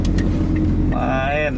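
A Wuling Confero S car pulls away on an uphill road in second gear, its engine note rising toward the end beneath people talking.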